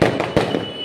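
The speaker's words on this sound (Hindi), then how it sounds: "तो अभी हम बच्चों के साथ मिलकर पटाखे भी छोड़ेंगे।" Diwali firecrackers go off outdoors during festival celebrations with children, two sharp loud bangs landing close together within a second, each followed by a crackling fizz.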